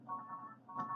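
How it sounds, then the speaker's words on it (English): A phone rings indoors, a steady electronic tone that pauses briefly and then resumes, faint and without speech. "Sorry about the phone."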